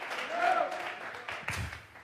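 Congregation clapping during a Sunday church service, a dense continuous patter of hands that swells then eases, with a voice speaking over it.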